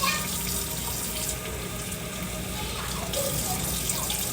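Water runs steadily from a kitchen sink tap, a continuous close splashing rush that stays loud and even throughout.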